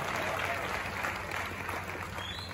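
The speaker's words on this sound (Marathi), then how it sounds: "त्याच्यासाठी बक्षिसीला जोरदार टाळी वाजवतात का नाही" An audience at a Malvani award show breaks into lively, sustained applause for a cash gift, dense clapping filling the whole moment with crowd murmur beneath.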